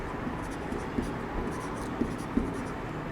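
Chalk or marker writing on a board during a physics lesson, faint scratchy strokes with a few light taps, sitting under a steady room background.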